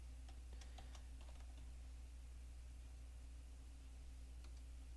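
Computer keyboard typing while entering a command for a RunUO Ultima Online server, faint scattered keystrokes in short bursts over a steady background hum, quieter toward the end.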